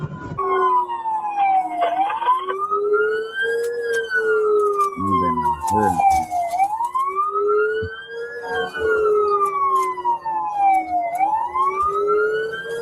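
A police car siren wails loud and close, rising and falling in long sweeping cycles with a short burst of rapid yelp partway through, over a running vehicle engine.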